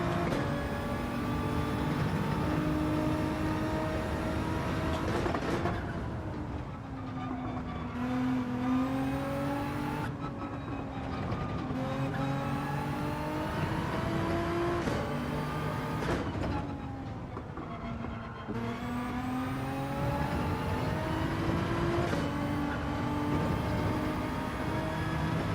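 A GR.3 race car engine at Spa in Gran Turismo 7 howls steadily throughout, revving high then dipping on downshifts about every five seconds before climbing again, loud and continuous with no talk.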